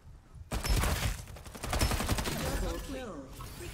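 Bursts of rapid gunfire in a shooter video game, loud and crackling over several seconds, with a synthetic voice speaking over the shots.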